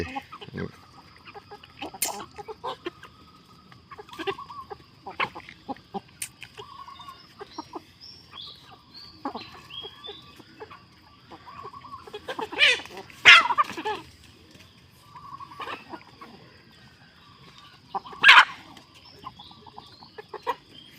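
Chickens cluck on and off nearby, with occasional louder squawks over a faint steady high-pitched drone.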